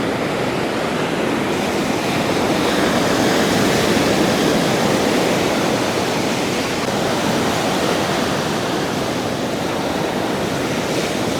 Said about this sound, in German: So richtig das Meer bis hier vorne hin, bis hier vorne hin.